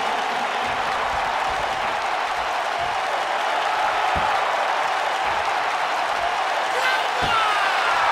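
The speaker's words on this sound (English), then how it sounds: "Nakamura tapping into that zone with a reverse power slam" Loud arena crowd noise from a WWE 2K wrestling video game fills the scene continuously as Nakamura hits a reverse power slam, with a few dull thuds of body impact punching through the steady roar.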